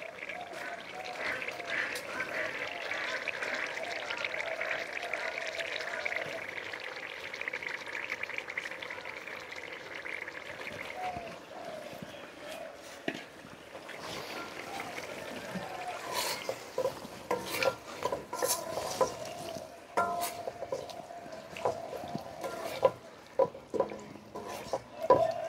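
Mixed fish added to a pan of cooked spice paste, a soft steady sizzle and rubbing stir for a long stretch, followed by sharper scrapes and clatters of a spoon against the pan as the fish go in, with background voices.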